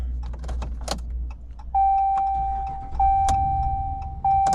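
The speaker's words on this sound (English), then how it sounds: "Truck starts." A 2015 Dodge Ram truck starts with a newly programmed FOBIK key: a steady engine rumble runs under short bright electronic chimes and warning tones that come on and off several times, with a jingle of keys early on.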